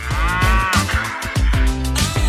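A cow moos loudly and close, a long low bellow followed by shorter calls.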